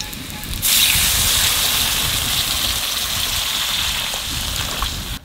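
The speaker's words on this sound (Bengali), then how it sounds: "আলু ভাজা হয়ে গেছে এখানে জল দিয়ে দেবো।" Water hits fried potatoes in a hot pan with a sudden loud hiss, then a steady, close sizzling roar that continues evenly to the end.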